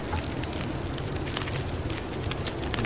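A campfire crackles steadily in the snowy survival game The Long Dark, a dense bed of small pops and snaps running evenly throughout with no voices.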